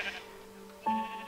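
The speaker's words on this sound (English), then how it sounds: "What is wrong with these sheep?" Video-game sheep bleat in a cluster, one close and fairly loud, with another bleat breaking in near the end and a faint game background beneath them.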